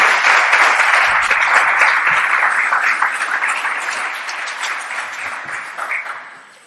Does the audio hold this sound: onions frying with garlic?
no